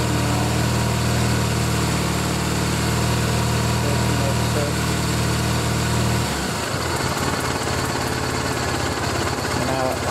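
A Triumph Bonneville motorcycle engine runs steadily and loud, then around the six-second mark drops back from revved to a lower idle, the tone shifting and settling; no voices are heard.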